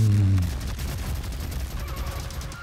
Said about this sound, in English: Got a little bit of the green love, right? You know, of the big gun.